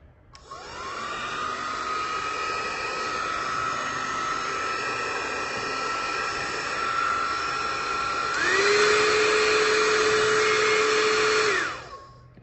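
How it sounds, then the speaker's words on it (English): Prive International iTera-care classic hot air blower running as a loud, steady whirring hiss with a whining motor tone, stepping up to a higher, louder setting near the end before switching off abruptly. "let's try Prive International's iTera-care classic hot air blower"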